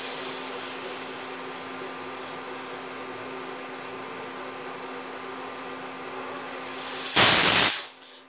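A pressure cooker full of rice hisses steadily for several seconds, then lets out a loud, close burst of escaping steam that cuts off abruptly near the end.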